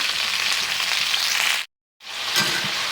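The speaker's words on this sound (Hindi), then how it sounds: "इसी तरह से चलाते हुए हम इसे अच्छी तरह से भून लेंगे। इसे हम ढककर भूनने देते हैं।" Ivy gourd (kundru) roasts and sizzles in a pan, a steady hissing fry heard close and fairly loud, cut by a brief silent gap before the sizzle resumes.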